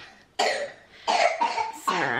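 A child coughs several times in short, harsh bursts, close by, with brief pauses between.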